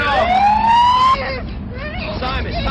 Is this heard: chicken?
no